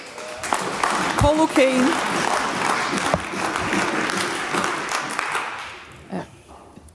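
Applause breaks out from the public gallery of the Scottish Parliament at Holyrood during a debate, a dense burst of clapping over a voice speaking, fading toward the end.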